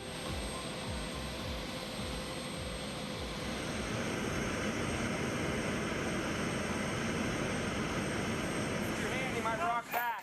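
A cargo plane in flight, a steady, loud jet engine roar filling the whole stretch, with faint chirps near the end.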